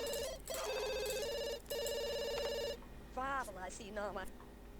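An in-game telephone rings in The Sims 2, repeated electronic ring bursts close and clear, followed by Sims chattering in their gibberish voices.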